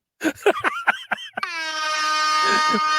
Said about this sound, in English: give me an air horn now